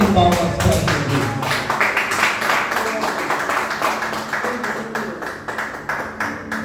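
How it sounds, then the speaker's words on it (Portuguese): A church congregation claps together in a sustained round of applause that is loud at first and gradually eases, with voices mixed in underneath. "dê uma salva de palmas para Jesus"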